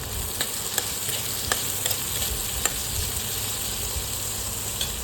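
Cabbage and vegetables frying in a pan for a home-style kobichi bhaji, a steady close sizzle punctuated by a few sharp scrapes and taps of a spoon stirring, with no talking.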